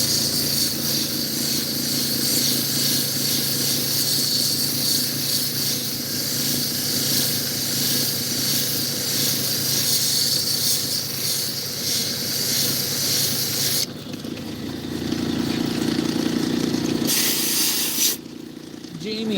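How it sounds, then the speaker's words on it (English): An air compressor used to blow-dry opal hisses in a loud, steady rush of air, then shifts in tone and briefly cuts out near the end. "The drying device is an air compressor."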